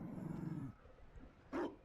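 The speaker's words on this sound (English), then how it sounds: "You found a dog." A Mabari war dog in Dragon Age: Inquisition gives a single short, loud bark near the end, after a brief low rumbling sound.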